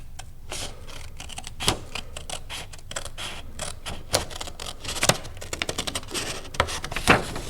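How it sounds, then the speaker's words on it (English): Scissors cut paper along a drawn line in slow, patient strokes, each a crisp close snip and crunch separated by short irregular pauses. "I'll go ahead and get a pair of scissors and cut these down"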